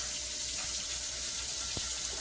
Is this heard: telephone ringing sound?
no